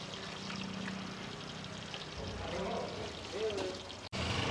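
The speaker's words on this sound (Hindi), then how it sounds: "यहाँ पे तेल डल रहा है 7 लीटर।" Seven litres of cooking oil pour steadily into a large cooking pot at a busy hotel kitchen, a continuous close liquid stream with kitchen bustle and people talking underneath.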